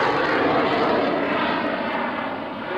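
Steady, loud drone of a propeller airplane engine at an airshow, continuous and close for the whole stretch with no breaks.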